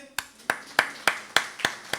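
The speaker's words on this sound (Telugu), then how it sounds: "అన్నకి చప్పట్లు కొట్టండి" A church congregation claps for a brother during a sermon, about seven sharp, evenly spaced claps, fairly close and firm, with no talk over them.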